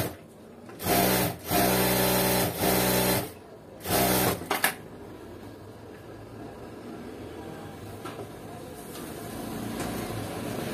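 A sewing machine stitching blouse cloth runs in several bursts over the first five seconds, a loud rapid mechanical whirr, then stops and leaves quiet room background.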